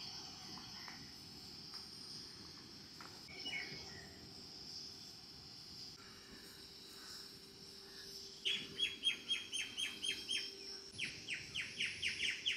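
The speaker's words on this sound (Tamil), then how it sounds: "மேலே பார்த்தீங்கன்னா ஒரே குருவிகள் சவுண்டு தான் கேட்டுட்ருக்கு." Sparrows chirp in quick repeated bursts, faint at first then clearer and more rapid, over a quiet outdoor background.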